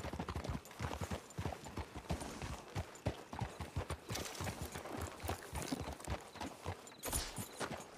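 Video game horse hooves clip-clop in a steady, fairly close rhythm, with a brief whinny-like burst near the end and no talk over it.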